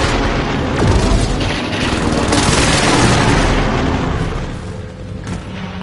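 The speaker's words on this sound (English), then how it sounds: "Enemy precision airstrike." Precision airstrike explosions in a military shooter video game: a continuous dense roar of booming blasts and rumbling detonations for several seconds, loud and close, tapering slightly toward the end with no voices.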